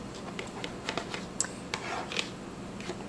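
A knife saws through the end of a freshly baked loaf with a run of short scraping, crackling strokes, close up and fairly quiet, with no talking.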